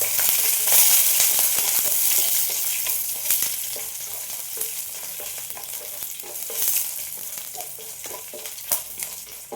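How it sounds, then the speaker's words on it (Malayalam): Dried chili and garlic cloves fry in hot oil in a pan for Saravana Bhavan-style chutney, a loud continuous close sizzle with crackling pops and occasional stirring scrapes. "മുളക് ഒന്ന് ചൂടായി വന്നിട്ടുണ്ട് ഈ സമയത്തിലേക്കൊരു നാലഞ്ചല്ലി വെളുത്തുള്ളി"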